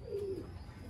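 A single soft pigeon coo, low and brief, heard faintly over a quiet background hum.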